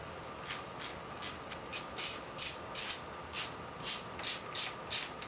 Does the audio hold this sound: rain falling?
no